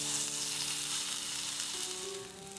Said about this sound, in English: Sear the meat quickly on a hot pan.